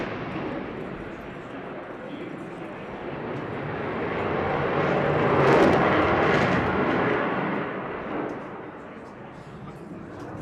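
An RAF Typhoon jet in a tight 9G turn at an airshow, a loud broadband roar of jet engine noise swelling to a peak midway and then easing, with no speech over it.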